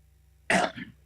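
A single close cough with a throat-clearing rasp bursts out after silence, loud and brief, then trails off.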